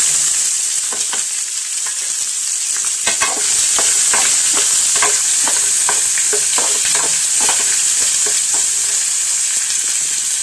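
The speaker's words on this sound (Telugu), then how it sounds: "తాలింపులు ఎగినాయి కదండి దాంట్లో ఉల్లిపాయ కట్టుకుంటాం" Onions frying in hot oil with tempering spices for a potato and tomato curry, a steady loud sizzle broken by repeated scraping strokes of a spoon stirring the pan, with no one talking.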